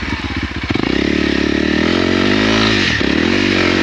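Engine of a 2022 Honda CRF300L motorcycle: a few choppy low-rev pulses, then a loud, steady rev held close up with a brief dip near the end.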